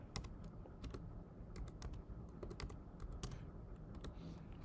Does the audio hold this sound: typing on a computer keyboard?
yes